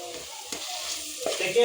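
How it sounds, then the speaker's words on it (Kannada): Onion and tomato frying in a tempering of oil for chicken fry, a soft steady sizzle with a couple of brief stirring scrapes, close and alone. "ಈರುಳ್ಳಿ, ಟೊಮೊಟೊ ಎಲ್ಲ ಒಗ್ಗರಣೆಗೆ ಹಾಕಿದ್ದೀನಿ"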